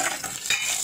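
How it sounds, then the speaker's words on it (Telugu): Curry leaves and dried red chillies crackling in hot oil for a tempering, a brief close sizzle with sharp popping bursts and no voices. "ఈ వేగుతుండగానే కరివేపాకు ఎండుమిరపకాయలు కూడా వేసుకుందామండి"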